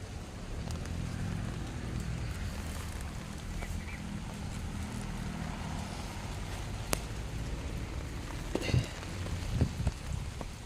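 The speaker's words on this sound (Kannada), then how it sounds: "ಮಳೆ ಕೂಡ ತುಂಬ ಜೋರಾಗಿ ಬರ್ತಾ ಇದೆ" Heavy rain pours down steadily as a dense, close hiss of drops on surfaces, with a few louder knocks and taps near the end.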